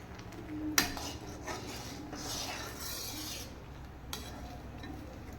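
A spoon scraping and stirring thickening milk in a pan while making palkova, soft rubbing strokes with a couple of sharper clinks against the metal, fairly quiet and close.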